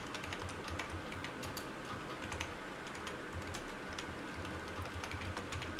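A single line of JavaScript code typed on a computer keyboard: quick, light, irregular key clicks heard close and fairly soft against faint room noise, with no voices.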